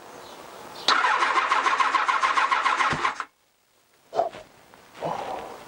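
A carburetted Honda CBR1000F motorcycle cranks and fires on its first start, roaring loudly for a couple of seconds before cutting out, then gives a sharp pop and a couple of short sputtering bursts, heard up close.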